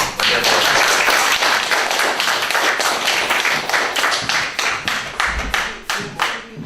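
An audience at a lecture gives a loud, sustained round of applause for an arriving speaker, dense clapping that gradually thins into separate, distinct claps toward the end.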